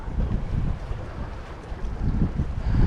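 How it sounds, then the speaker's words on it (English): Gusty wind buffets the microphone over open water during a thunderstorm, a low rumbling roar that rises and falls with faint wave wash underneath, heard from a rocking fishing boat. "the wind's blowing us one way and the waves are going another way"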